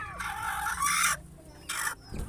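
Brooding hens in a backyard let out a few short, close bursts of loud clucking separated by brief quiet gaps.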